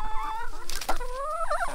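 Several chickens cluck and murmur close by in a tropical backyard garden near sweet potato leaves, with short overlapping rising calls and no talking.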